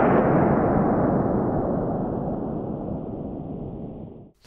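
A SpaceX Starship prototype test tank bursts in a loud, sustained explosive roar that fills the space and slowly fades over several seconds before cutting off abruptly.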